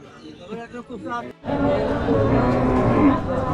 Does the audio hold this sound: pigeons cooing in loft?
no